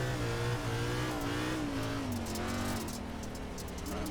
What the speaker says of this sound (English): Now you got to use the throttle a bit.